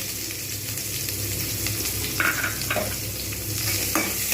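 Onions frying in a pan for banana flower curry, a constant sizzle with occasional stirring scrapes and clinks, near and fairly loud, no talk.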